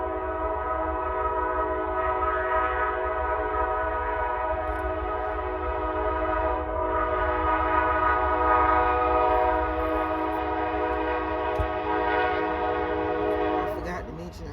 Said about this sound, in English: I forgot to mention I live by a train.